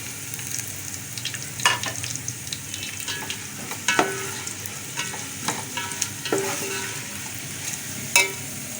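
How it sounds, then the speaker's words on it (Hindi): Whole spices frying with golden onions in a pot, a soft steady sizzle broken by scraping stirs and sharp spoon clicks against the pot, fairly close. "और इसमें ये मसाले डाल देंगे,"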